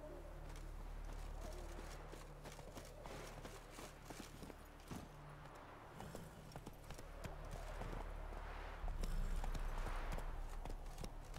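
Hooves clip-clop rapidly in a steady rhythm, a horse galloping at close range over a low background hum in The Witcher 3: Wild Hunt.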